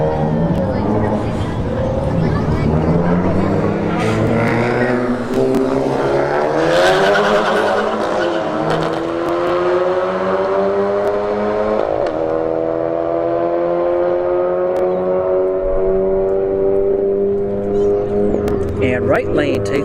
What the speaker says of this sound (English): Civic Type R versus Civic Type R.